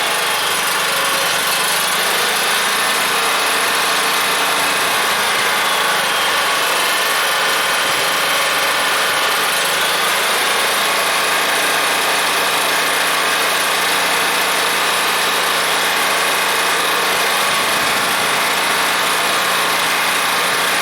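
A new Champion 100519 portable gas generator runs steadily at idle, a constant broadband engine drone with a mechanical hum that holds at an even level for the whole stretch, close by and without any talking.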